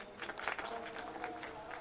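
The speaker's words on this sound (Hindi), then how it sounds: "जोरदार तालियां इन दोनों के लिए" An audience at a community seminar and temple festival gathering gives a brief round of applause, soft and somewhat distant, with a continuous wash of clapping and little talk.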